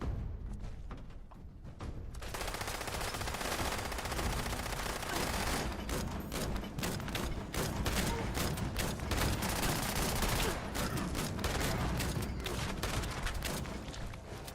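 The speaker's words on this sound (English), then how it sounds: "Shotgun blast." Rapid gunfire and heavy shotgun blasts from the video game Fallout form a dense, loud, nearly continuous barrage for about twelve seconds after a quieter opening.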